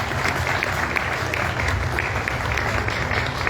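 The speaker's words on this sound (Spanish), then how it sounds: "le demos un aplauso" Audience at a book presentation applauding a poet, a steady crowd of hands clapping throughout, with a low background hum underneath.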